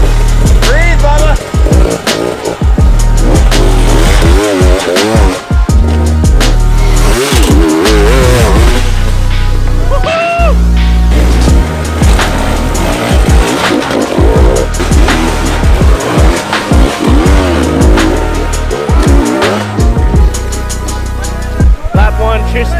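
Dirt bikes racing on a beach track, engines loudly revving and whining up and down through gear shifts as several bikes pass close and fade, with faint voices in the background.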